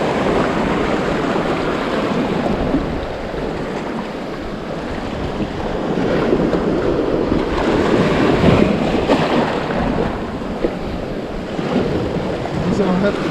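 Ocean waves surging and crashing around a small boat beached on a shore after a hurricane, a steady loud roar of surf mixed with gusty wind buffeting the microphone.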